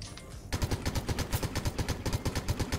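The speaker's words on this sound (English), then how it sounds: "And now just take out your gun and shoot." Rapid gunshots from a gun in Fortnite, a steady rhythmic string of loud, evenly spaced shots lasting a couple of seconds after a brief quieter lead-in.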